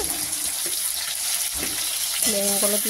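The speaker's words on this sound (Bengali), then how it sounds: "বেশি ভাজবো না, হালকা একটু ভাজবো বেগুনটাকে" Eggplant pieces fry in a pan with a continuous close, dense sizzle and spatter, and a voice briefly sounds near the end.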